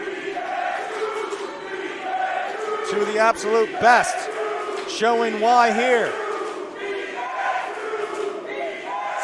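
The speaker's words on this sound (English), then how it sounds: "Split crowd here in the Premier Arena" Wrestling crowd in the Premier Arena at a Gangrel versus Masada match, a split audience roaring and chanting steadily through the clip beneath a commentator talking over it.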